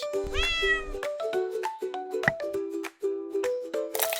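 A cat meows repeatedly in a run of short, clear, high-pitched calls with brief gaps between them, close and fairly quiet, during miniature cooking of a tiny whole chicken.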